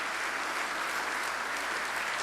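A hall audience at the 26th Inchon Awards ceremony gives a dense, steady round of applause after the Joy of Strings ensemble's performance, with no voices heard over the short burst.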